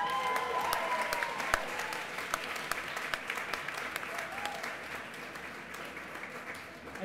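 An audience at a fashion week award ceremony in Australia applauds an award winner, with a sustained bed of clapping, sharp individual claps standing out, and faint voices underneath, gradually easing toward the end.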